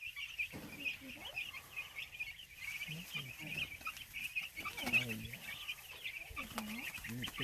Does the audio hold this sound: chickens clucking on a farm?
yes